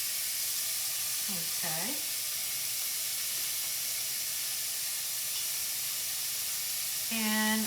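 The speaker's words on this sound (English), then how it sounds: "I'm going to mix this up, move it around in the pan because it will start to stick." Hamburger meat broken into chunks sizzles and fries in a hot pan on the stove for soup, a steady hiss throughout with a brief voice and small harmonic blips near the end.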